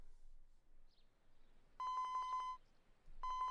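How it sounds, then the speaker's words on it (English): A cell phone rings in a quiet room, two bursts of a bright, rapidly pulsing electronic ringtone separated by a short pause, clear and fairly close. "Osawa's cell phone rang."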